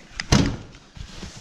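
A door on a Honda Pioneer 1000-6 utility vehicle swings shut with one close, solid slam and a short rattle after it, followed by faint handling noise.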